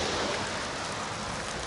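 Steady rain falls on and around a Cold War ROC post bunker ventilation shaft, a dense continuous hiss with no distinct drops, close and even throughout.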